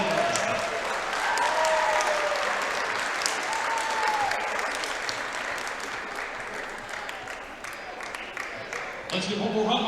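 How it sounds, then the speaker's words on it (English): Gym crowd applauding the 2021 ICC Lady Indians state champion team at a basketball game, a long, loud wash of clapping with faint voices and a whistle-like tone mixed in, swelling again near the end. "Let's give one more round of applause."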